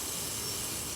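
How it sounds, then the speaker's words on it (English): A short, steady hiss of liquid being sprayed from a nozzle onto a window, close and continuous for about a second. "I think we should spray a little bit on this window."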